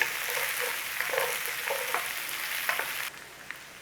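Onions frying in a hot pan, a close, continuous crackling sizzle with occasional louder pops and stirring clatter, cutting off abruptly near the end to a quieter hiss.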